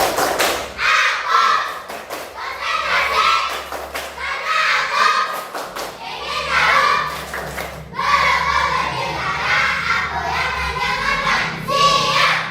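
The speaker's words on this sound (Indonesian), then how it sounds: "Oke, kita tepuk konsentrasi." Schoolchildren in a religious education class do a rhythmic clapping chant, bursts of claps punctuating loud, sing-song group chanting that repeats in phrases, close and lively.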